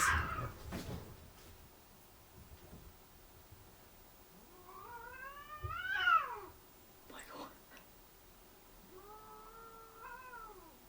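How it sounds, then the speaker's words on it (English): A cat yowls in long, wavering, drawn-out cries, several angry caterwauls with pauses between, fairly close, with faint background noise. "can you hear that cat? It sounds really angry"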